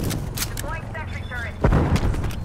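A Semtex grenade goes off in Call of Duty: Black Ops Cold War as a short, thumping blast partway through, amid busy gunfire and game voice callouts.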